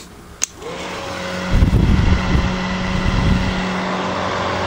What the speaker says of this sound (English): It's not as loud as your traditional hairdryer.